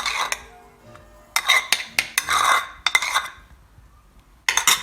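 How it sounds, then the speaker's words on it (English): Sugar, milk and ice cream go into a container for a strawberry smoothie, heard as a series of close clinks, spoon knocks and scraping clatter in separate short bursts with quiet gaps between. "So I'm putting the sugar in there, the milk in there, putting the ice cream in there."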